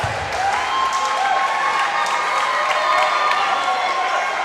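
Basketball crowd in a gym, NU Miners against Folsom Bulldogs, roaring with sustained applause and cheering right after a made three-point shot, dense and loud throughout with scattered shouts.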